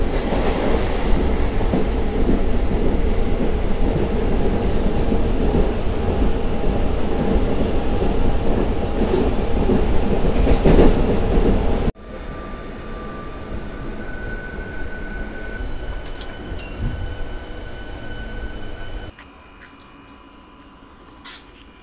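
The Tirupati to Pondicherry MEMU Express runs on its rails after leaving Puttur station, with a loud steady rumble and clatter heard from inside the coach that drops off sharply and becomes quieter in stages.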